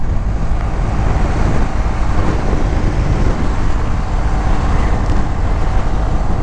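A Triumph Tiger 1200 motorcycle riding along a road, a steady loud rush of engine and heavy wind buffeting across the whole stretch with no break.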